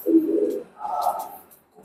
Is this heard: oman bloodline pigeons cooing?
yes